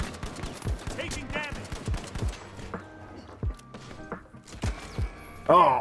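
Rapid bursts of gunfire from the video game The Finals, with sharp repeated shots scattered across the clip and a louder volley at the end, heard under a man's reactions and exclamations.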